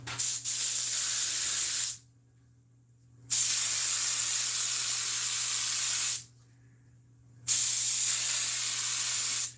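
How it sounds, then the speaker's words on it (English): Spray glue hissing in steady bursts onto a foam pad for a motor home RV seat repair, three long close sprays of about two seconds or more separated by short pauses, with no talking. "I try to keep as much glue off my table as I can, so that's the reason I'm spraying it on top of that piece of pad"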